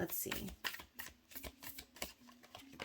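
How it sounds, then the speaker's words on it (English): Tarot cards are shuffled close by in quick, papery riffles and soft rapid taps, with a voice speaking over them. "So maybe I'll see it again as I'm shuffling."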